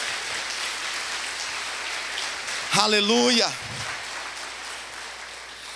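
A church congregation applauds during an evening service, a broad, steady wash of clapping filling the space, briefly overlaid by a shouted voice in the middle.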